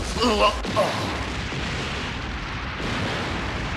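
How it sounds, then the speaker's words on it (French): Explosions going off across different floors of a building in an anime, a rumbling boom with a broad roar that rolls on, and a voice briefly heard at the start. "Les écrans de contrôle indiquent des explosions à différents étages."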